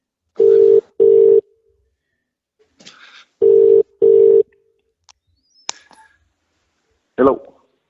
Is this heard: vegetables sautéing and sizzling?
no